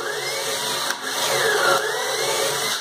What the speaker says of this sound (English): I'm using a 3/8 drill and just drilling a nice fat 3-inch deep hole in there